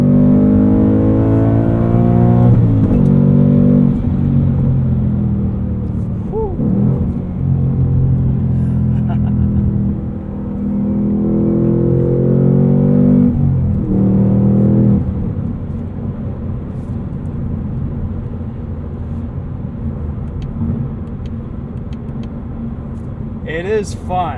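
A 2022 Ford Mustang Mach 1 V8 with a manual gearbox and Handling Package growls loudly through its exhaust, swelling in repeated accelerating pulls before settling into a steady cruising drone, with someone talking over it throughout.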